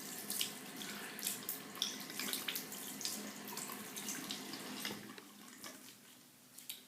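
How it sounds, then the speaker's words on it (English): Makeup brushes are rinsed under a running tap, a steady close splash of water with fluttering surges as the brushes move through the stream, easing off near the end, with no speech. "make sure that you get all the soap out of your brushes"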